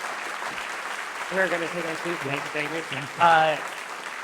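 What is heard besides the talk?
audience applause at lecture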